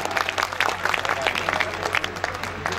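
Audience at a mushaira clapping in a dense, lively burst of applause, close and steady for a few seconds with a faint hum underneath.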